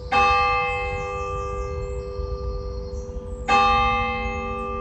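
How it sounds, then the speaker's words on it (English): A church bell in Goresworth ringing twice, each loud strike followed by a long, slowly fading resonant hum, the second stroke arriving about three and a half seconds after the first. "It's a good old bell."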